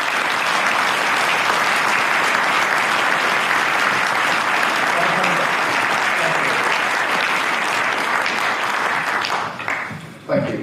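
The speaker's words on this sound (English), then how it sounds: "Ladies and gentlemen, give a warm applause to Professor Nick Jennings." A large audience at the Fujitsu Distinguished Engineers' Conference 2016 gives loud, sustained applause for Professor Nick Jennings, steady for about ten seconds before tapering off at the end.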